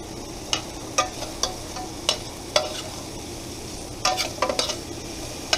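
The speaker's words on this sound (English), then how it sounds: "now that we cook these guys down a little bit, we're going to add the bell peppers" A Bahian moqueca of mangrove snapper fish with bell peppers simmering and sizzling in a pan, with a soft continuous hiss and occasional sharp scrapes and clacks of a utensil stirring.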